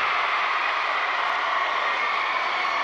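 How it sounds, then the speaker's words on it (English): Broadband crowd roar at a girls' high school basketball state tournament game, Sioux Falls Washington against Brandon Valley, as the Brandon Valley fans rise after a made three-pointer; sustained, loud and even throughout. "Heidi Hoff brings the Brandon Valley crowd to its feet once more."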